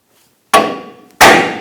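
A hammer strikes the steel steering knuckle of a Hummer H3 to break the ball joint loose, giving two sharp, loud metallic clanks that ring out and decay between blows.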